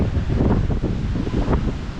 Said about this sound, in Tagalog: Medyo ano po ang panahon, mahangin po.